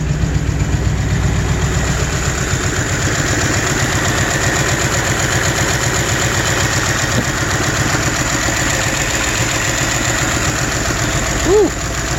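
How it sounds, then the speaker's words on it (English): A 1984 Camaro Z28, running for the first time in 16 years, idles with a loud, close, steady rumble and a slightly uneven, sputtering pulse, with a voice briefly heard near the end. "She is spitting and sputtering a little bit"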